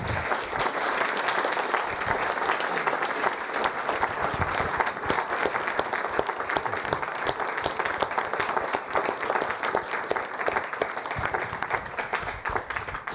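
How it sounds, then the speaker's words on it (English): Warm audience applause after a lecture on the origin of life, sustained dense clapping from a crowd for over ten seconds, even and fairly loud without talk. "why don't we uh, give Dr. Tour a uh, warm applause?"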